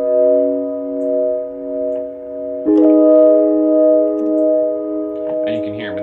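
Mellow Neo Rhodes electric piano chords from an Ableton lofi beat: two held chords, the second entering partway through, with a gentle wavering tremolo and light clicks at the close.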